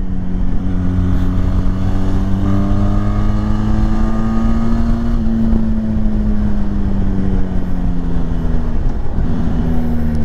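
A Benelli TRK 502 X 500cc motorcycle engine revs up loud and close, its rising drone holding steady for several seconds before the pitch eases and climbs again, with no talk over it.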